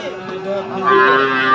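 A single drawn-out moo from cattle at a rural livestock market where heifers and calves are sold, close and loud, its tone rising and swelling toward the end.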